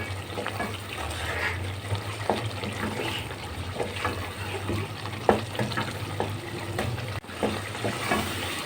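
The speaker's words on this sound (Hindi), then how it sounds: "टमाटर भी हमारे पकेंगे और साथ साथ मसालों की भी इंशाल्लाह बुनाई होगी।" Tomatoes and spices including red chilli powder and turmeric fry for matar aloo, a steady close sizzle with soft stirring scrapes and occasional clinks throughout.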